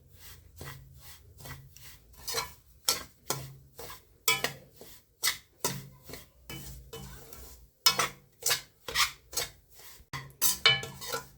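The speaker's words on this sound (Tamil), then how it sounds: "கிண்டி விட்டுக்கலாம்." Semolina and grated coconut being dry-roasted and stirred in a pan for rava laddu, heard as a steady series of close, scraping strokes in a regular rhythm with short pauses between them.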